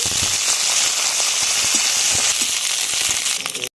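Peanuts, cashews and raisins frying in hot oil make a dense, continuous crackling sizzle, loud and close, with scattered small pops throughout before it cuts off abruptly.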